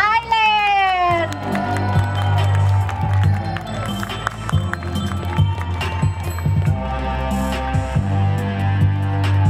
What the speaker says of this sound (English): May we hear a big round of applause for Thailand!